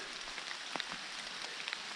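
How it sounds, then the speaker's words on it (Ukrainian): Rain patters steadily onto leaves in a forest, with scattered individual drops ticking out above a continuous hiss, close and fairly soft, with no voices. "Пішов дощ, щось немає настрою в дощ."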